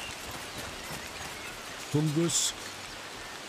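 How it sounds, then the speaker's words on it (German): Rain falling in the video game Among Trees, a steady soft hiss throughout with a short chiming game tone near the middle and a brief spoken word over it. "Jetzt regnet's."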